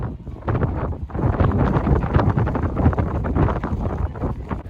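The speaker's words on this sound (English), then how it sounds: "It's very, very windy up here" Strong wind roars across the microphone on the high balcony of the Ponce de Leon Inlet Lighthouse, a loud, steady buffeting gust that runs through the whole stretch with no voice over it.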